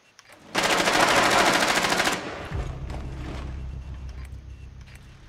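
Automatic gunfire from Rainbow Six Siege on the Chalet map, a dense sustained burst lasting about a second and a half, loud and close, followed by a lower rumbling machine drone.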